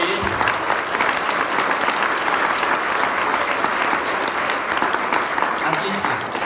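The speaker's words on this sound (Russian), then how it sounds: "Пожалуйста, встаньте и аплодисменты вам" Dense, loud applause from a large audience at a business event in a hotel hall, continuous clapping filling the whole stretch with crowd murmur mixed in.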